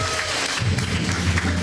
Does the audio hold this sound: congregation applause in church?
yes